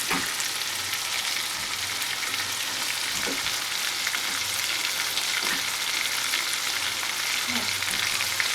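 Fried rice is broken up and stirred in a hot pan, a continuous sizzle with occasional scraping knocks of the utensil against the pan.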